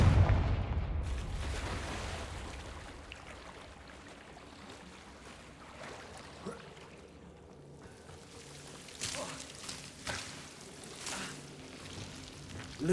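Confringo blasting spells go off in Hogwarts Legacy, a heavy boom at the start and then a few duller blasts and rumbles later, with no talking.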